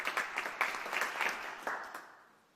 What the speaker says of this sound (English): Also, another clap,